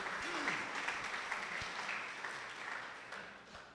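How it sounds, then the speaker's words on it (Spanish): A church congregation applauding together during a sermon, a steady wash of clapping from many hands held at an even level for several seconds, with faint voices mixed in. "¿Puede darle un aplauso al Señor?"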